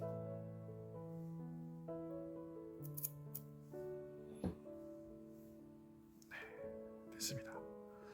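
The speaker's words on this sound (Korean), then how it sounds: "자, 줄을 잘라 볼게요." Scissors snipping fishing line while tying a hook knot: a few short, quiet crisp cuts spread across the middle and end, over a low steady tonal hum.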